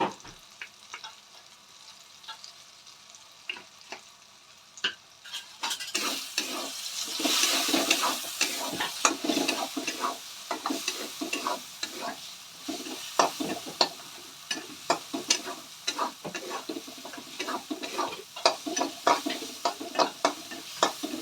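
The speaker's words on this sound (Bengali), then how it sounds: "এটা ভাজা ভাজা হয়ে এসছে" A spiced fish mixture with kasuri methi fries in a pan, quiet at first, then a steady sizzle broken by frequent scraping clicks of a spoon stirring close by.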